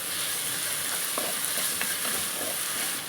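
Salt and mint go into chicken pulao sizzling and frying in a pan, a steady close hiss of hot oil with a few soft stirring scrapes and no talk.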